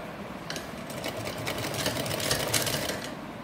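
A sewing machine stitches pink and green fabric triangles together for a flower-design cushion cover in one close, continuous buzzing run with fast stitch rattle throughout.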